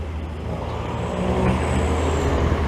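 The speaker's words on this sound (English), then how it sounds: "it's just annoyingly loud. I'm so tired of these modified mufflers. Like, it's a Fiat also." A Fiat car with a modified muffler passes along a city street in Montreal's Park Extension district, a loud, steady exhaust rumble that swells slightly as it goes by.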